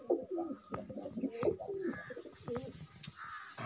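Parwazi pigeons at a pigeon farm coo in low, throaty bursts that repeat unevenly, close by, with a few faint chirps and rustles mixed in.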